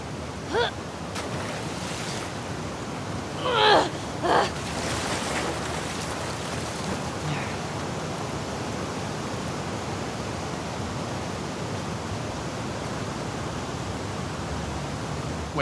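Flowing water current rushes through a sewer in The Last of Us Part II, a steady broad wash of churning water with a few brief splashy surges early on, continuous and fairly close.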